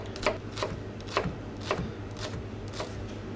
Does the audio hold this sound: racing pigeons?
no